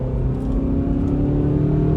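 A 2022 Subaru Forester Wilderness Edition accelerating hard on a road with light traffic, heard from inside as a steady, loud engine drone with rising harmonics and road rumble throughout, no talking.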